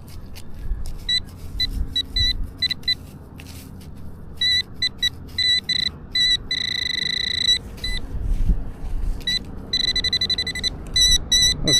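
A metal detector emits repeated intermittent high-pitched electronic tones in short and longer bursts while searching a curb strip, over faint outdoor rustling.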